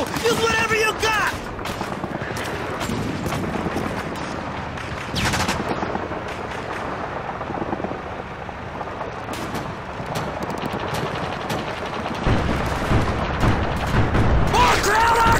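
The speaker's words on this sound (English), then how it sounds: "Artillery barrage! Take cover!" Artillery barrage and gunfire in the World War II shooter Call of Duty 2: bursts of machine-gun fire and heavy booming explosions, some close and loud, with shouted voices in between.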